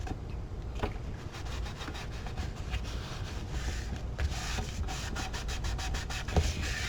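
A paper tab being burnished onto a scrapbook album page, giving a steady, close, soft rubbing and scratching texture that continues throughout with a few light taps.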